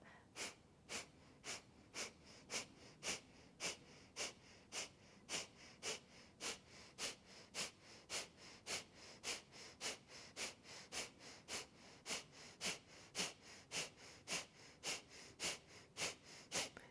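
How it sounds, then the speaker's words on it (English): Kapalabhati yoga breathing comes as a long run of sharp, rhythmic nasal exhale pumps, about two per second, each forceful puff evenly spaced and close, with no talking over them. "let's do another round of 36. Inhale, expand the belly, and exhale, pump."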